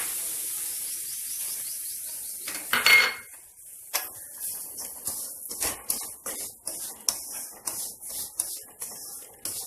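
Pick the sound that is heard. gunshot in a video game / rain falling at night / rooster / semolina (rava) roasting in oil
semolina (rava) roasting in oil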